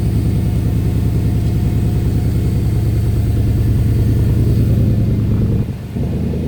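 A Mercedes M113 5-litre V8 swapped into a Ford Capri idles on its first cold start, a steady, loud, low rumbling burble that dips briefly near the end before settling again.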